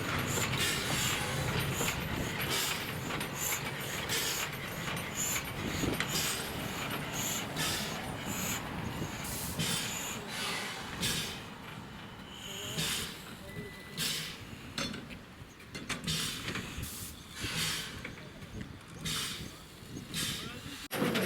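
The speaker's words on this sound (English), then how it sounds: "Number 15 backs down onto its train at St Valery Port." Baie de Somme railway locomotive number 15 backing down onto its train at St Valery Port, with continuous mechanical rumble, hissing and clanking of coupling gear at close range and scattered sharp knocks, occasional voices in the background.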